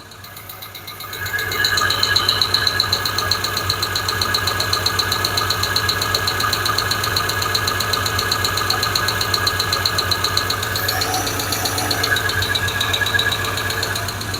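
A car engine with faulty Chinese-made lifters idles steadily with a fast, even mechanical ticking over a low hum, starting up in the first second and then running loud and close throughout.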